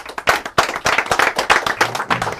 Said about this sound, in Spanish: quiero que recibamos con un aplauso de nuevo